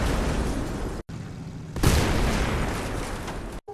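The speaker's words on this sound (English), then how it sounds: "With the fuel tank explosion on the Leopard" A Leopard tank's fuel tank explodes in a video game, a loud sustained blast with a brief cut-out, a second rumbling burst around two seconds, and a roaring tail of debris noise.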